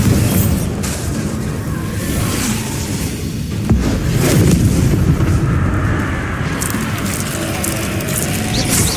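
In Hogwarts Legacy a Bombarda spell explodes with a loud, rumbling blast over dense continuous battle noise, one sharp thump standing out midway.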